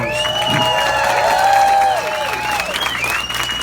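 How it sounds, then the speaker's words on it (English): An audience at Graceland in Memphis applauds during the Elvis Presley 83rd birthday proclamation: a short burst of clapping with cheering voices over it, loud at first and easing off toward the end. "yes, a hand of applause"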